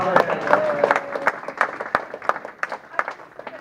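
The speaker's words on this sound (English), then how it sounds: "Let's have a round of applause for Jimmy." A short round of applause for Jimmy Walsh at a residents' forum, with scattered hand claps from a small crowd that thin out toward the end. Voices talk over the clapping.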